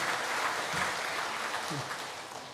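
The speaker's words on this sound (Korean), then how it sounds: "하나님께 영광의 박수 함께 올리겠습니다." A church congregation claps together during a Sunday worship service, a steady wash of applause filling the whole moment with faint voices mixed in.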